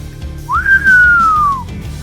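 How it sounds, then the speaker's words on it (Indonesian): A single loud, clear whistle rises sharply and then slides slowly downward, held for about a second over a low, quiet background, used as a signal for attackers to retreat. "terdengar satu suitan keras"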